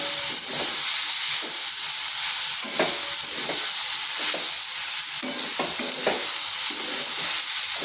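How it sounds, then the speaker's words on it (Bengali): Malabar spinach (pui shak) stir-fries in a pan with a continuous sizzle, and a spatula scrapes and stirs at a regular rhythm roughly every second, close up. "এইভাবে একবার পুঁই শাক ভাজা করে দেখতে পারেন"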